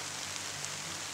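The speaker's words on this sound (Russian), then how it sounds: "Идет дождь." Steady rain falls in a forest while the sun shines, a dense even patter on leaves and the ground with a few louder drops and no voices.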